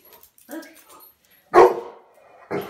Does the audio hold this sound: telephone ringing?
no